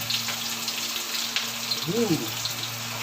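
Steady crackling sizzle of chicken skin frying in hot oil, with a brief voice-like sound partway through.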